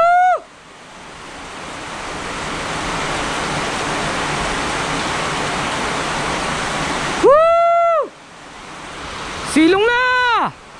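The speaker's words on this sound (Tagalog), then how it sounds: "Ayaw sumilong oh, lakas ng ulan." Heavy rain pours down in a steady, loud roar during a storm, with speech breaking in near the end.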